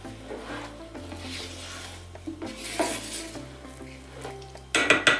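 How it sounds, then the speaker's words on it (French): Food being mixed with a little olive oil in a pan, close scraping and stirring strokes over a light sizzle, ending with a louder burst of clattering, scraping utensil sounds; no talking. "un petit peu d'huile d'olive pour que ça colle pas. Voilà, on mélange le tout."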